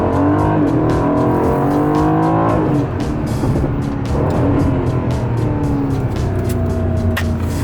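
A new Aston Martin's engine revs loudly and close, rising through the gears with sweeping pitch climbs, a brief dip, then another surging acceleration and sustained roar.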